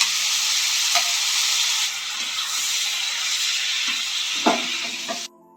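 Paneer pieces go into a hot pan with a bright, steady sizzle, broken by a few soft clatters as they are added, before the sizzling stops sharply near the end.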